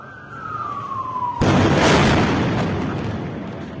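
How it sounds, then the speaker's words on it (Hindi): An air strike hits a building in the Al Nasir area of Gaza: a falling whistle-like tone gives way to a sudden loud, broad explosive blast that rumbles on and slowly fades, with no speech. "अल नसीर इलाके में बड़ी एयर स्ट्राइक देखने को मिली।"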